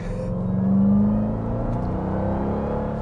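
Dodge Durango Hellcat SUV with its supercharged engine, a steady near mechanical drone with a tonal whine rising briefly then holding level, continuous and alone without talk.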